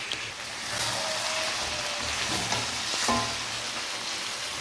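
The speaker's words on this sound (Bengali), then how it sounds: "মাছটাকে আমরা ভালো করে মশলার সাথে মিশিয়ে নেব, নিয়ে ভালো করে মশলাটা কষিয়ে নেব মাছের সাথে" Bhetki fish bones sautéed with spices in a pan, giving a dense, continuous sizzle with a few soft stirring scrapes, fairly close and steady throughout.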